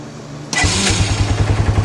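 A 2001 Bayou ATV engine fitted with a new starter cranks briefly after a quiet pause, then catches and runs with a quick, even chugging beat close by.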